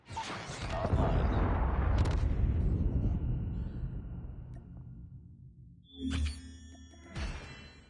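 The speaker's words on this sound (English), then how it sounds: "Predator missile inbound" A Predator missile strike explodes in a video game: a loud, broad blast rumbles for several seconds and slowly fades, followed by two shorter, sharper bursts near the end.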